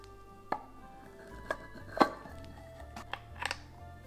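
Knife slicing through a moist vanilla cake casserole and tapping down onto the dish, a handful of separate crisp clicks and thuds spaced about a second apart, close and quiet with no talk.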